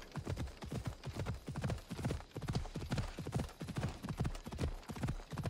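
Horse hooves clip-clop in a steady, brisk rhythm throughout the Assassin's Creed Odyssey video game, a continuous walking or trotting beat at moderate volume.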